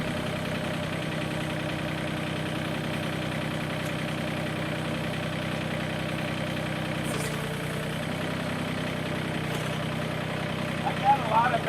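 A backhoe engine idles with a steady low, slightly knocking rumble, constant and moderately loud throughout with no change in pitch.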